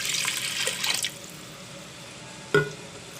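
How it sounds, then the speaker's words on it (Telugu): Water is poured into a pot of mint rice, giving a brief splashing gush for about a second before it stops, followed by a short clink near the end. "ఇప్పుడు మనం రైస్కి సరిపడా వాటర్ వేసుకోవాలి"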